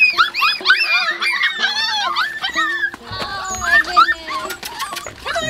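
A litter of stray puppies on Koh Samui yips, whimpers and whines in overlapping high-pitched cries, close and continuous, with a person speaking among them.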